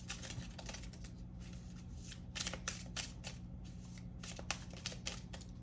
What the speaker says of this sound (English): we're gonna go ahead and shuffle it back in